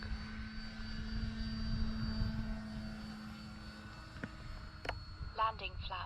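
An FMS PA-18 Super Cub radio-controlled model airplane flies overhead, its electric motor a faint steady drone that swells slightly and then fades. A couple of sharp clicks and a brief voice come through near the end.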